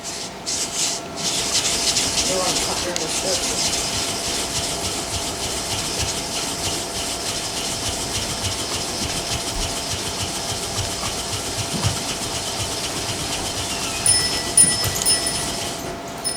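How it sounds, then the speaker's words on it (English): A wooden crooked stick friction fire drill spins, continuous rough rubbing and grinding of wood on wood, a steady rasping friction sound kept up at an even pace for a long stretch. "Also known as the crooked stick drill."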